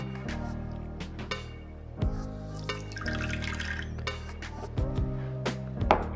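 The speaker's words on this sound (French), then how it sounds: "je vais y rajouter un petit peu d'eau" Water is poured into a container holding liquid soap, splashing and trickling steadily with a few light clinks against the container, at close range and moderate volume.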